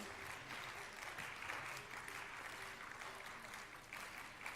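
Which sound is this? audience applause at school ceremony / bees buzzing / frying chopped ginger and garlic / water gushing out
audience applause at school ceremony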